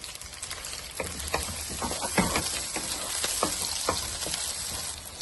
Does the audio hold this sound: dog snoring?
no